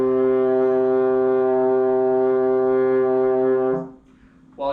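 A baritone horn sustains a single steady C, fingered with valves 1 and 3, as a loud, even brass tone that holds for nearly four seconds and then stops cleanly, leaving near silence.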